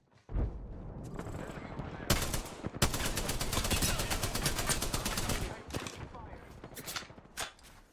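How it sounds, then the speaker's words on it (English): Gunfire in a shooter video game, with dense bursts of rapid automatic shots and sharp single cracks packed close together over several seconds, loud and near, with a few quieter gaps. "They're shooting at me."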